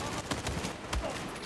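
Rapid gunfire from the video game Battlefield 4, quick bursts of shots that are faint and somewhat distant in the mix, with no clear talking.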